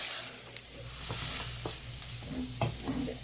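Masala with tomato puree, for a potato and eggplant curry, sizzles in a pan while a spoon stirs and scrapes it in a few short, close strokes over a continuous frying hiss.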